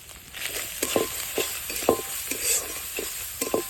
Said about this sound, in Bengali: অল্প না জল দিয়ে মশলাটা ভালো করে কষে নিই।